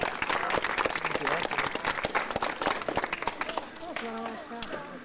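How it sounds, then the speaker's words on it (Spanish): Pupils and families at a school Red Cross event applaud a teacher, brisk clapping close by for several seconds that fades as a voice begins speaking near the end. "Fuerte aplauso, por favor,"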